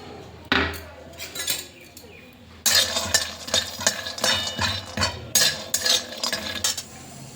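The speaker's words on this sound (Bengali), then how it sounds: "এখানে কিছু চিনে বাদাম, এগুলোকে এখন আমি ভেজে নেব" Peanuts dry-roasting in a hot wok in a home kitchen, with bursts of rattling, scraping and clinking as a utensil stirs them, close and loud with brief pauses and no talk.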